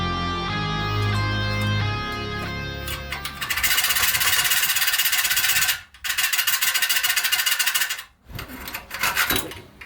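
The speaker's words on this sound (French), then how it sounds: "Le tuyau d'échappement de la vanne EGR est indesserrable et compliqué d'accès, donc je décide de le couper tout simplement." Cutting tool biting through the EGR valve exhaust pipe on a Mazda MX5, a harsh, loud rasping grind that runs in sustained bursts with two short breaks, preceded by a steady tonal mechanical hum.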